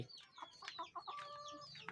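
Faint chicken clucking and squawking in quick irregular bursts, with high-pitched calls and a brief sustained note, heard alone at a low level.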